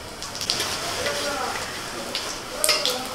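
Cumin seeds and chopped green chillies fry in hot mustard oil with a steady, close crackling sizzle that holds at an even level, with a few sharper pops near the end.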